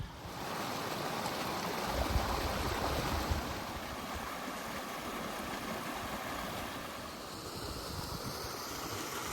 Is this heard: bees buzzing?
no